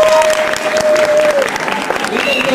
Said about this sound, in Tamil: இந்த சைடு நல்லா பாடினாங்க, நல்லா பேசினாங்க அவங்க வாதத்தை அப்படிங்கிறவங்க கைத்தட்டினாங்க.